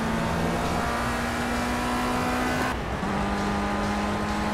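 Race car engine at speed along the back stretch of Oulton Park in Project CARS, a steady loud drone that drops in pitch at one gear change and then holds on, close and continuous with no talk.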